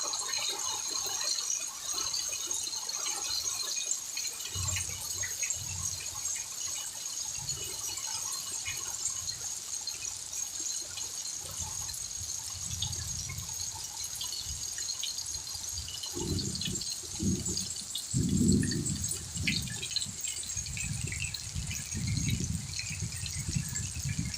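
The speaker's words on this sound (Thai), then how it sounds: "ถนนมองไม่เห็นถนนแล้วเห็นไหมคะทุกคนฝนตกแรงมาก" Heavy rain pours onto a flooded street at the Kheha Bang Phli housing estate in Thailand, with water risen to the footpath. A constant close hiss carries low splashing, gushing surges that grow stronger in the second half.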